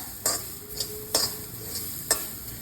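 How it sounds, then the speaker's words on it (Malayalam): Grated coconut roasting in coconut oil with cinnamon, cloves, cardamom and fennel seeds for a potato masala, giving a steady low sizzle broken by four sharp scraping stirs of a spoon. "വെളിച്ചെണ്ണ നമുക്ക് നാളികേരം വറക്കാനിടാം കേട്ടോ"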